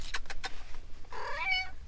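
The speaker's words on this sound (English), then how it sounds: "they meowed quite a bit" Several cats meow from inside carriers in a parked van, a few short close calls early on followed by one longer, drawn-out meow, with no talking over them.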